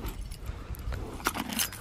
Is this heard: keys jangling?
yes